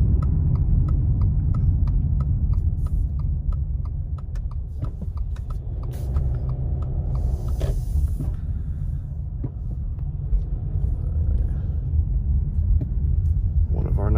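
A car drives the regular loop around Big Bear Lake, California, in snow flurries, giving a steady close low engine and road rumble with a few faint knocks and clicks throughout.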